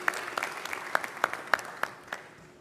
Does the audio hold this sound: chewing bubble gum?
no